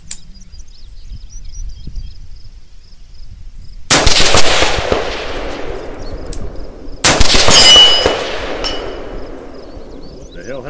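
After a quiet stretch, a PSA 14.5 rifle fires twice at a 400 range steel target. Each loud, sharp crack is followed by a long ringing decay and a faint metallic ping.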